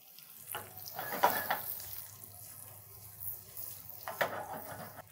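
Soft sizzling and crackling of bone-in pork loin gently frying in a pan with butter, rosemary and garlic, with a few brief louder bursts as it is stirred.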